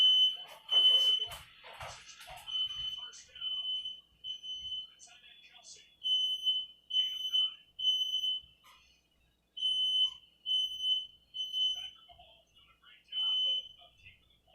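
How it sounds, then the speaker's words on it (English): An extra-sensitive household smoke detector in a home kitchen shrills with a steady high-pitched alarm tone that pulses repeatedly for the whole stretch, loud and close, with a person talking over it near the start. "I just have an extra sensitive fire smoke detector"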